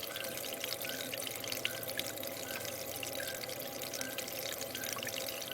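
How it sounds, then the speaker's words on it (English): Water flows steadily over a micro mat sluice processing Lake Superior black sand, a continuous close rushing wash with no breaks and no voices. "It's really hard to show under flowing water on a camera."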